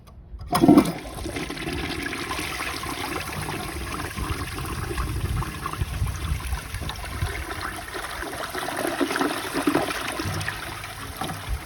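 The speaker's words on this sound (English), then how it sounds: "I kind of interrupted the flush there" A 1953 Gerber Arlington toilet flushes with a sharp opening rush, then a sustained swirling, trickling water flow that continues steadily to the end, close and alone.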